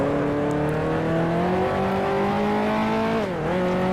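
Sustained engine drone of 1955 Mercedes and Lancia Formula One cars dueling at Zandvoort in the Grand Prix Legends racing game, a steady loud tone that dips briefly near the end as revs drop and rise.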